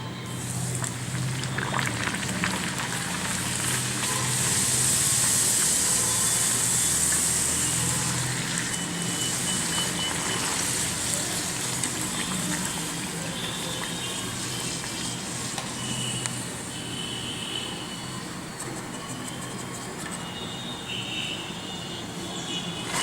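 Pooris fry one by one in hot oil, a loud continuous bubbling sizzle with a bright hiss that holds steady throughout and eases slightly toward the end, with no talking.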